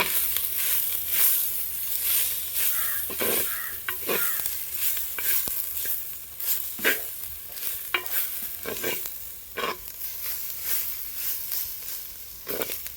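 Tomato and coriander leaves frying for a Kerala-style bangude (mackerel) fish curry on a makeshift stove, a continuous sizzle with regular spoon scrapes and stirs against the pan, close and steady, with no voices.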